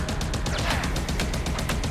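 Rapid gunfire in Halo Infinite co-op play, a dense continuous burst of shots running steadily through the whole moment at close range, with no pauses between them.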